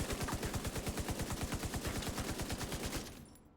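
An M60 machine gun in The Division 2 fires one steady, rapid burst of evenly spaced loud shots lasting about three seconds, then cuts off into fading echo.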